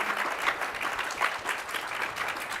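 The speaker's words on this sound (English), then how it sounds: "Please give our guests another round of applause." A seated audience at a panel discussion applauds its guests, with steady, dense clapping throughout, moderately close and without voices.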